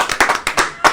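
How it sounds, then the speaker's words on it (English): Several sharp hand claps in a quick, uneven run, like a small audience briefly applauding a dog eating dinner on a comedy show; loud and close, with no talk over it. "Give him a round of applause."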